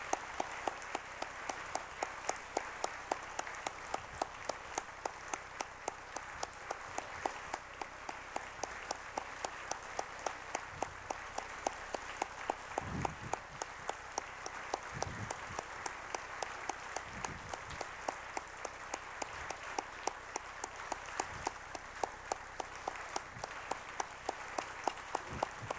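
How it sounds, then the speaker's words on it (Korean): A church congregation gives sustained, dense applause at a Sunday worship service in a Korean church, steady rhythmic clapping filling the hall for the whole stretch, with a few louder low thumps partway through. "우리 다시 한번 영어 예배팀과 우리 다문화 가족들 위해서 뜨거운 박수로 격려하십시다"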